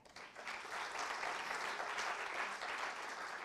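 Dense, even applause fills the hall at a 2024 French media innovation awards ceremony, a soft swell that holds steadily for several seconds.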